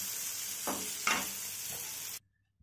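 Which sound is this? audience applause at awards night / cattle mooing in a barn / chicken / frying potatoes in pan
frying potatoes in pan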